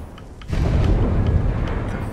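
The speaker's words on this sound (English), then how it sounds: "I do love the thud sound." A deep, heavy thud sounds as a building is placed in the factory game Satisfactory. It lands as one sudden low boom and then settles into a sustained rumble.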